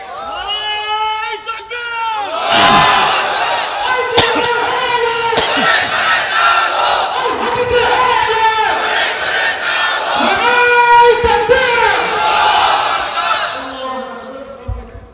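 A large crowd chanting the takbir, Allahu Akbar, in repeated loud rising waves of massed voices, each shout swelling and fading before the next, with scattered screams and chatter between.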